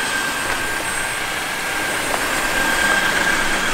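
A steady, loud rushing whir of a Dreame H12 Pro wet floor vacuum sucking up spilled Coca-Cola, running continuously with a broad airy hiss and no pauses.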